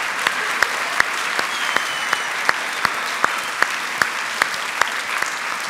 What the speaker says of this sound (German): und ich habe nochmal einen Applaus für dich